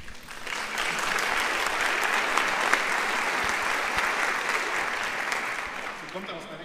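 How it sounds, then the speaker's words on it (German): Audience at an adult-education event applauding a speaker's welcome, a full, sustained round of clapping that swells quickly and stays loud before tapering at the end, with some speech at the edges. "Applaus"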